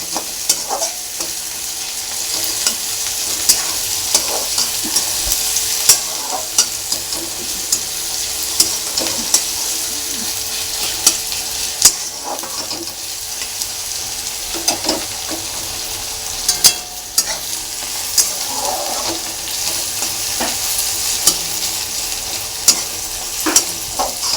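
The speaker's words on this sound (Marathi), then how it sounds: "हे बघा कांदा मिरची छान भाजलेली आहे" Sliced onions and four or five green chillies frying in a pan over high flame, with a loud, continuous sizzle broken by repeated scraping stirs and light clinks of a spoon against the pan.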